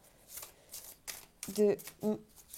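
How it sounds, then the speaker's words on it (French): Oracle cards for a love reading are shuffled in quick, dry papery bursts, followed by a voice speaking briefly near the end. "je vais prendre une carte de l'oracle de l'amour universel pour ce tirage relationnel"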